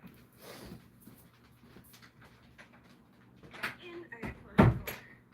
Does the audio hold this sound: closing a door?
yes